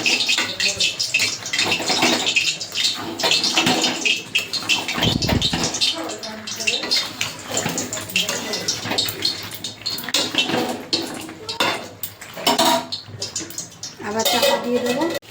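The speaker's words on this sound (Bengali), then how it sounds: "চাপা তুলে এবার চিকেনটাকে নেড়ে দেবো।" Chicken butter masala stirred in a cooking pot after the lid is lifted, with scraping and clinking of a utensil against metal and wet sizzling, continuous and close throughout.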